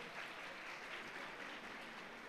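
Audience applause for a parent called to the stage at a school annual day evening session, a steady, even wash of clapping from a seated crowd, faint and distant, with no voices over it.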